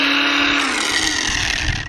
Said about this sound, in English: Where did you cop that fine Einhell air grinder? Let's grind.